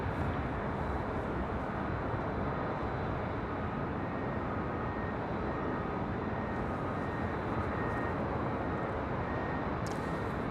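A United Airlines Boeing 737 MAX 9 jet at LAX produces a continuous, broad roar of engine noise, heard from a distance and holding steady throughout with no voices.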